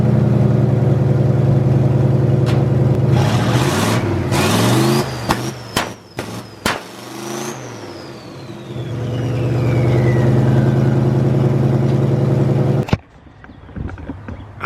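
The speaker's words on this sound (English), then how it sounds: "floor the gas pedal and trigger the key on and off, I think that should be a budget two-step" A V8-swapped Datsun runs a budget two-step made by flooring the gas and switching the key on and off. It makes a loud, droning rev with choppy cut-outs and pops mid-way, a long rising whine, then an abrupt stop.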